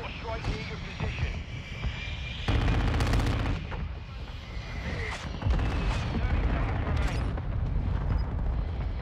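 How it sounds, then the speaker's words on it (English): Mortar strike explosions in Call of Duty: Modern Warfare II, heavy booming blasts and rumbling over continuous loud gunfire and battle noise, with voices talking over the action. "Hostile mortar strike near your position."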